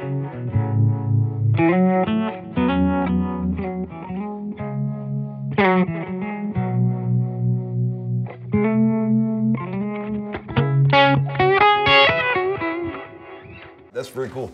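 An electric guitar runs through a Keeley Noble Screamer overdrive pedal into a Halo, giving a continuous, loud overdriven phrase with sustained chords and quick note runs that rises to bright high notes near the end.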